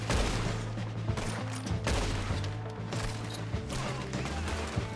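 Gunfire in the Western video game Red Dead Redemption 2, a dense rapid fusillade of overlapping shots and cracks that carries on steadily throughout, loud and close with no talking.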